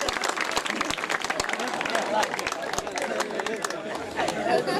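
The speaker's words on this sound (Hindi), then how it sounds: "तालियां बजाकर फनकारों की हौसला अफजाई की जाए" An audience at a Pakistani stage drama claps and cheers, dense applause with crowd chatter filling the whole stretch, loud and continuous.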